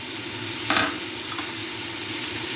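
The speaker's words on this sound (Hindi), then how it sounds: "तो अब जो है इनको हम अच्छी तरह से मिक्स कर लेते हैं" Tomatoes, green chillies and spices for a mutton and potato curry stirred and frying in a pan, an even sizzle with one brief scrape of the spoon early on.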